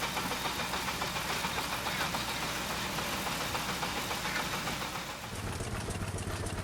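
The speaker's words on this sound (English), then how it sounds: "This wooden constructed rock crusher is being powered by a Harrison Jumbo steam engine." Wooden rock crusher driven by a Harrison Jumbo steam engine at a steam festival in the Missouri River Valley, a dense continuous rumbling clatter with rhythmic knocking, loud and close, easing slightly near the end.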